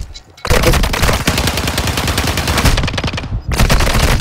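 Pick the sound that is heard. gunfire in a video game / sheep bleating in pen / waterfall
gunfire in a video game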